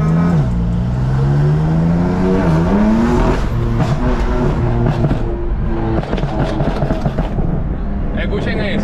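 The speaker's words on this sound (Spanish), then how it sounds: "Le vamos a enseñar cómo suena esta moflería" A 600 hp BMW M4 with an aftermarket exhaust, heard from inside with the windows down and sunroof open: a loud, close engine that rises and falls through several revs, droning continuously with a rasping tone.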